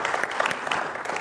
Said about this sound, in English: The reason I'm applauding him